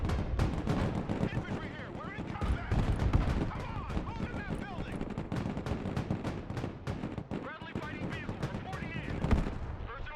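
Bradley vehicle fire in the Broken Arrow war game crackles in rapid repeated shots and booms over a busy battlefield roar, with voices talking over it.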